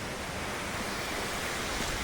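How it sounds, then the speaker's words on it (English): A small waterfall beside a hill road on Conic Hill rushes in a steady, loud broadband wash of falling water, close by and continuous with no talk. "nice wee waterfall."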